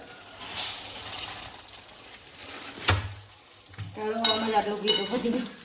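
Ghee being stirred while frying a gum (gund) snack, a steady crackling sizzle with scraping stir strokes and a louder burst of frying toward the end, close and without talk.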